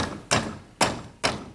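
Three sharp, solid knocks of a hammer hitting a chisel while cutting a cavity in an oil stone, evenly spaced about half a second apart, close and fairly loud.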